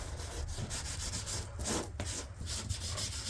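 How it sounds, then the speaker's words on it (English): Lard is smeared and rubbed by hand over a plaster cornice mould as a release agent, giving a close, soft rhythmic scraping and swishing with short strokes repeating throughout and no talking. "I'm going to get my old trusty lard, yes, and just smear it all over"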